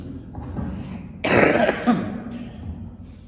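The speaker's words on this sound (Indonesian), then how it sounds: "Batuk-batuk dikit kayaknya." Someone coughs a couple of times during a religious lecture, close and fairly loud, with brief quiet murmuring before and after.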